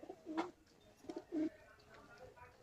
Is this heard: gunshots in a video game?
no